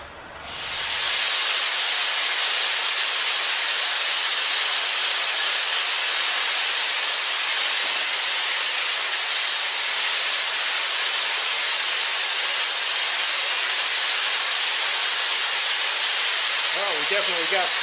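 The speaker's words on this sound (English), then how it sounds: "Well, we definitely got steam." A steam engine in a workshop vents a loud, continuous hiss of steam that rises sharply at the start and holds steady close by throughout.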